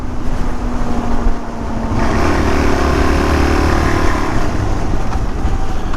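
A dual-sport motorcycle engine runs at a steady drone while riding, a continuous loud rumble that rises slightly in pitch partway through as the bike picks up speed, with wind noise and no speech.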